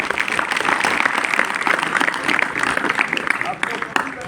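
An audience claps at an event at a government industrial training institute, a dense and fairly loud crackle of many hands that keeps going throughout and eases slightly toward the end.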